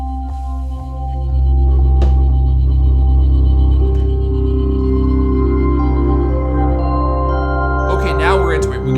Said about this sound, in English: While I tune your Echo to match the acoustics of this room.